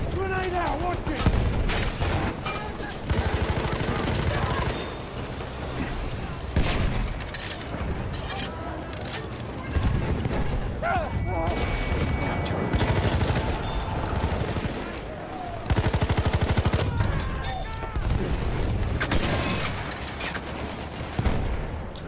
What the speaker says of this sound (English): Grenade out, watch it!